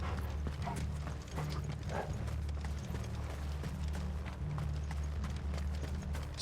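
Horse hooves clip-clop steadily at stables in the Final Fantasy XVI video game, a continuous clatter over a low droning ambient bed, with a possible faint whinny and no talking.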